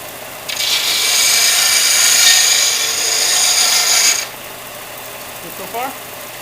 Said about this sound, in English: The next step is to do a little shaping with the belt sander